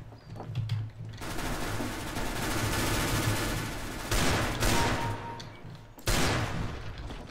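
Counter-Strike gunfire: a dense, sustained volley of rapid shots with loud sharp cracks breaking through near the end, fairly close and continuous with no talk.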